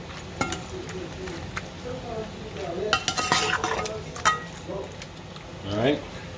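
Curry crabs and shrimp being stirred in a pot, with scraping and clanking strokes in uneven bursts and a voice talking over them.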